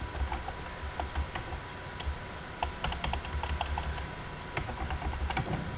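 Someone types on a computer keyboard in quick bursts of soft clicks and taps, irregular in rhythm with short pauses between runs of keystrokes, close by and fairly quiet.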